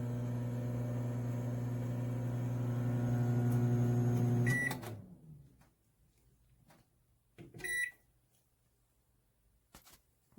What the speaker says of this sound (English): This is a great little microwave.